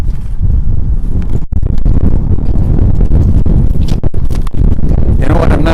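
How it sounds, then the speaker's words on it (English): Loud wind buffets the microphone in heavy, rumbling gusts outdoors beside an F-5E Tiger II jet, with brief dips and a faint voice underneath. "It's windy here today, so it's not helping me at all."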